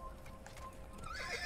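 A horse in the Assassin's Creed video game neighs while its hooves clip-clop, a steady gallop rising into a loud whinny near the end, with no talking over it.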